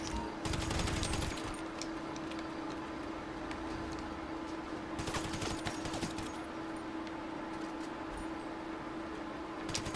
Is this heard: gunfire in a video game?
yes